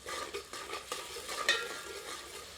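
Ground onion frying in a pan over medium heat for Old Delhi style keema kapoore, a steady close sizzle with stirring scrapes throughout, no voices.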